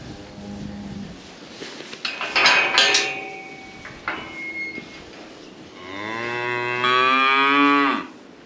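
Cattle on a farm give one loud, drawn-out moo near the end, preceded by scattered clanks and knocks of metal gates or equipment.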